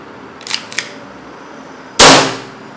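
Colt 1911 Titan CO2 airsoft pistol: two light clicks, then one sharp loud gas-powered shot with a short decaying hiss, close and alone.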